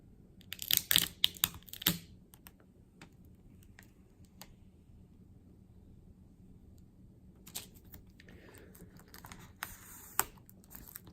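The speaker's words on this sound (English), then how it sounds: "So this is covered in plastic wrap, but we got our pull tab here, so let's go ahead and get this pulled off." Crinkly plastic wrap is pulled off an Apple Watch Series 4 box in a close, quiet setting. A cluster of sharp crackles comes at the start, and another burst of rustling follows later.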